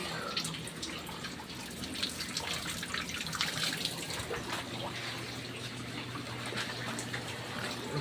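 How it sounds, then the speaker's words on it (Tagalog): Hot water poured steadily, a continuous splashing and trickling stream heard fairly close for the whole stretch, with faint background voices. "Tagalagay pa ng mainit na tubig."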